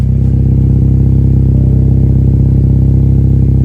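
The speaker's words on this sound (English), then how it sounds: "Here's the outside sound clip." A 10th-generation Honda Civic Si fitted with a PRL catless downpipe and front pipe idles outside the car, giving a loud, steady, deep exhaust drone with a faint fluttering pulse and no changes in revs.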